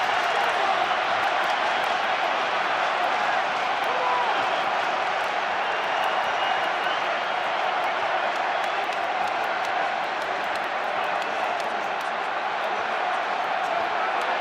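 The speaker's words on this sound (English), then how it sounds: "Listen to the crowd." A packed stadium crowd at the 2012 Premiership rugby final between Harlequins and Leicester Tigers keeps up a steady, sustained roar of cheering and noise throughout, with a commentator's voice over it.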